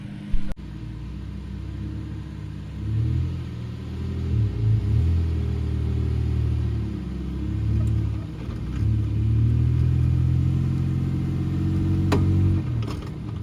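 A built Nissan Frontier truck engine rumbles and revs in surges off-road while a tire spins, a low, droning growl rising and falling at moderate distance, with a sharp click near the start.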